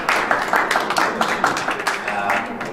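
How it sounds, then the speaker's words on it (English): Applause from an audience at an exhibition event at the UN headquarters in New York, a dense steady patter of many hands, fairly close and continuous. "may I ask you please to give her a round of applause"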